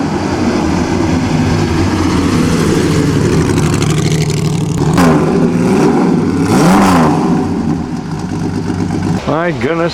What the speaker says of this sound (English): Here's another one of those competition Ferraris.